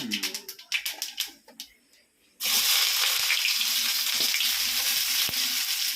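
Mustard seeds crackle and spit in hot oil for mushroom thokku, starting with scattered sharp pops before a loud, steady sizzle takes over for the last few seconds.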